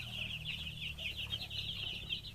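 Four-day-old broiler chicks chirp in a dense, steady chorus of high peeps, close and continuous over a low background hum.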